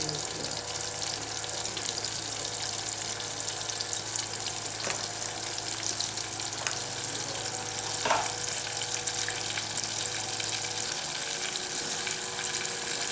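Plantains frying in hot oil in a pan for a Nigerian plantain-and-gravy dish produce a continuous, moderately quiet sizzle with faint crackles and a few brief clinks throughout, and no one talks over it.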